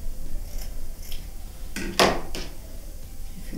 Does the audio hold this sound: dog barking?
no